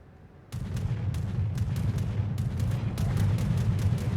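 Heavy naval artillery from a Yamato battleship firing HE shells in World of Warships, a rapid series of loud booming salvos and sharp cracks starting abruptly after a quiet moment over continuous deep rumble, no voices.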